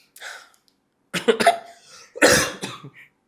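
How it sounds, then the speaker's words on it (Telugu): A person coughs several times in short harsh bursts, close and loud, in a quiet indoor setting with brief gaps between the bouts. "దెబ్బకి దగ్గు వచ్చేసింది"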